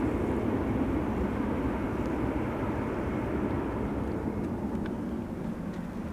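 A jet airplane passing overhead at Amsterdam Schiphol Airport, a loud, steady broadband engine roar that fills the whole clip without any voices.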